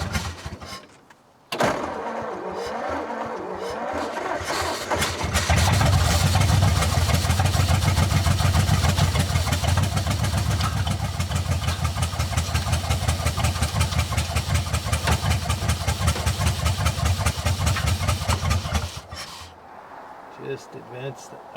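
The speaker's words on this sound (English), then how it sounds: "It's only running on 6 cylinders, so it doesn't want to idle." An old flathead Ford engine, left sitting for decades and fed from a makeshift gravity tank, cranks, catches and idles roughly on six cylinders, loud and uneven close by before cutting out.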